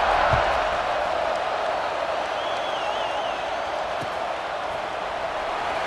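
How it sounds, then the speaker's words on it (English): A steady, dense roar of a stadium crowd buzzing after a touchdown in EA Sports College Football 26, continuous and even throughout with no break. "this crowd is buzzing after that last score"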